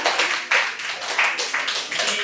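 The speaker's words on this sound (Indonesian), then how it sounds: "Coba beri tepuk tangan untuk Adi." A short burst of clapping from a small group in a classroom lesson, steady and fairly close, with a few claps standing out.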